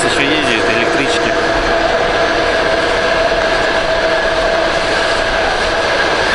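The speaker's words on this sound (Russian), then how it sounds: "А также здесь еще ездят электрички." An electric suburban train passes near Divnogorye in Russia: a loud, steady rolling rumble of wheels on rails with a sustained electric whine that holds throughout.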